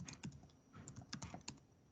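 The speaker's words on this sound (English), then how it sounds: "I'm just typing gibberish in here" Someone types gibberish on a computer keyboard, producing quiet, quick, irregular key clicks in short bursts.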